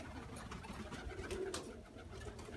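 Pigeons coo softly in a quiet setting, several low, throaty calls overlapping at a moderate distance with faint background noise and no talking.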